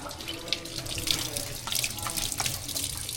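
Tap water runs steadily into a sink as a rusty key is rinsed under it, a close hissing splash with small irregular spatters and clinks throughout.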